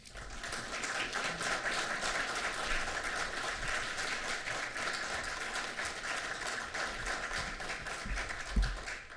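An audience claps steadily to welcome a speaker at a book talk about veterans, a dense, sustained round of applause from a sizable crowd lasting the whole stretch at even loudness.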